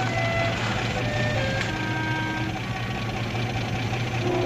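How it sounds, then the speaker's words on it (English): A vehicle engine idles with a steady, low, continuous rumble that fills the whole stretch, with faint high tonal whines above it and no voices. "Shut off the engine."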